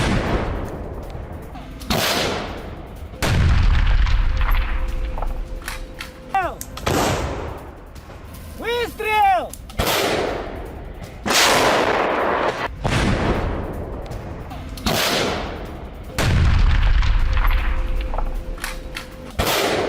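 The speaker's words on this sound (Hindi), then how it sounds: "अवदीविका में रूसी आर्टिलरी के हमले देखने को मिले हैं।" Russian artillery fire in Avdiivka, a series of heavy booming shots at irregular intervals, loud and near, with a whistling incoming round in between and no speech.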